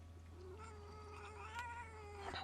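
A house cat lets out a faint, drawn-out meow that wavers in pitch, heard over a steady low electrical hum in a quiet room.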